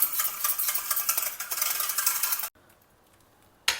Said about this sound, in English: Take fresh curd and just beat it so that it is nice and smooth.